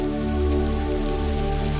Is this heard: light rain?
yes